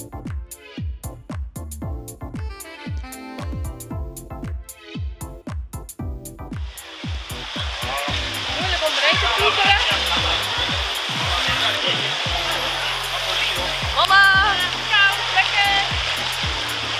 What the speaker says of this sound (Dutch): En hierbij heb je dus ook allemaal water en rotsen en watervallen